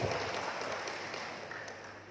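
Crowd applause at a PPP political party declaration event in Pemalang, a steady, dense clapping that holds for about two seconds and fades slightly toward the end.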